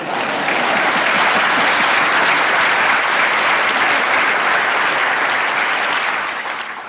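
Sustained applause from a lecture audience greets a former German chancellor, a dense even wash of many hands clapping that holds steady and fades slightly at the end, with no talking over it.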